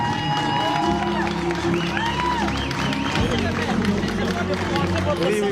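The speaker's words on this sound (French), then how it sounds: "applaudissements pour le maire" A crowd applauds and cheers for a new mayor at an official ceremony in Akanda, loud and continuous clapping mixed with crowd babble, while a voice speaks and musical tones sound over the noise.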